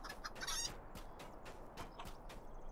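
Chickens cluck around a farm in the Shire in the Lord of the Rings Online video game. The clucks are loud and busy at first, then come as scattered calls over a low background tone.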